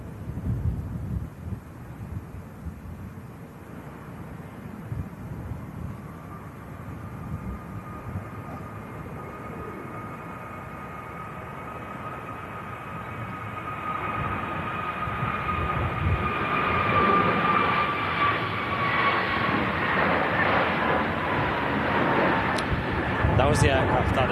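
An Airbus A320neo landing in strong, stormy wind, its engine roar building from a distant rumble to a loud, drawn-out whine with a steady tone, while gusts buffet the microphone throughout.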